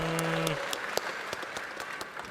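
A sparse applause sound effect of scattered claps rings out for a couple of seconds, fairly close, after a short spoken line.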